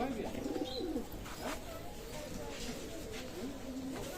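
Domestic Bangladeshi deshi pigeons coo close by in soft repeated throaty calls, with a few higher chirps among them. Someone talks over the birds.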